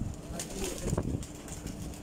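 Pigeons at a loft coo and flutter close by, soft throaty calls over a busy outdoor bed of noise, with a brief burst of wing movement midway.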